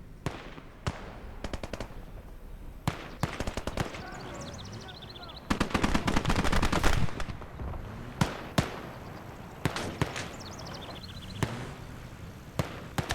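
Bursts of machine gun fire in the World War II strategy game Gates of Hell, German side: sharp rapid volleys and scattered single shots, one sustained loud burst midway, with game voices talking in between.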